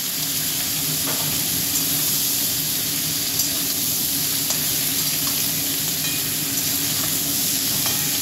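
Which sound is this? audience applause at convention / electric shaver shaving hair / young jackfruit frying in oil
young jackfruit frying in oil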